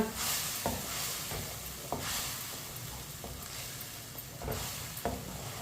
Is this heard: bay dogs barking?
no